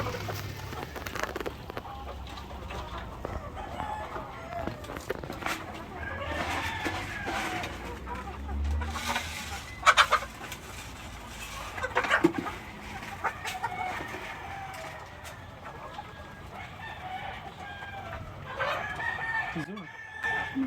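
Chickens cluck and a rooster crows on a poultry farm, the calls rising in scattered bursts over a low outdoor background at moderate distance, with occasional voices in between.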